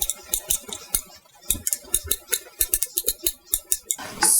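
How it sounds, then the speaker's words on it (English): A knife chops washed mushrooms into quarters and bite-sized pieces on a board, giving a steady run of close, crisp taps with short pauses between the cuts. "I'm gonna wash these mushrooms and then cut them up real quick"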